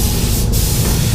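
Loud, steady hiss of a paint spray gun laying clear coat over base coat, close up and continuous, with a brief dip as the trigger eases.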